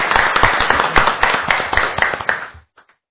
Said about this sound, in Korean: 박수로 환영했습니다.